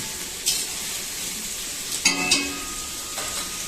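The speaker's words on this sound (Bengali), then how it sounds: "পেঁয়াজগুলো ভালো করে ভেজে নিতে হবে" Onions sizzle steadily in a hot pan, with a few scraping stirs and clinks of a utensil against the pan.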